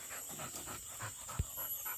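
A hunting dog pants quietly in rapid, rhythmic breaths during a hunt outdoors, faint against a steady background hiss, with a brief low thump near the end.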